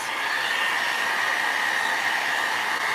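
A dryer blows air to dry Pentart cracking paste under a built-in top coat, giving a steady, loud, unbroken whoosh with a thin high whine, close and alone.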